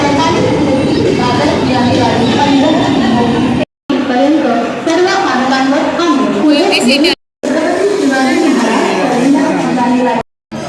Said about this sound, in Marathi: आली बघ लोकल आली